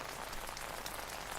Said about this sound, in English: I've been here for hours and the rain doesn't seem like it'll stop anytime soon.